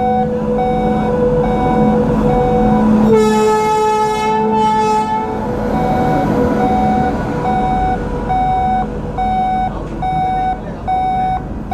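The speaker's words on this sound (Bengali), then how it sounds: "তো এখন তো ট্রেন চালু হয়েই গেছে" A train passes a railway level crossing while the gate's warning beeps repeat steadily. A loud rail rumble and a strong sustained horn blast sound close by.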